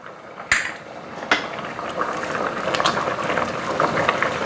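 Pumpkin red curry with pork belly is stirred gently in a pot, giving soft bubbling and liquid sloshing with two sharp clinks of the utensil against the pot early on.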